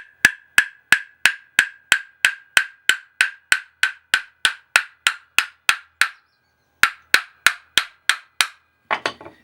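A hammer strikes the back of a tight blade to knock it free, about twenty sharp metallic taps in a steady rhythm, close and loud, with a short pause before a last few blows and a duller rattling knock at the end.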